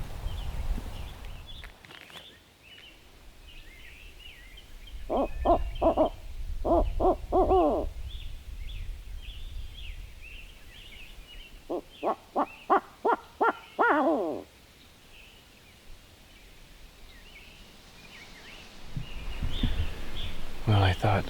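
An owl hoots in two rhythmic series of calls, fairly distant, over steady wind noise in the Minnesota outdoors during a late-season turkey hunt, with quiet murmuring voices nearby.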